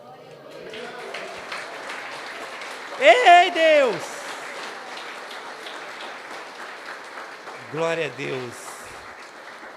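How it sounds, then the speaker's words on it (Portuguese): A church congregation applauds softly in the background as a preacher loudly exclaims praise over it, the clapping forming a low, continuous patter beneath his voice. "aplauda o nome dEle"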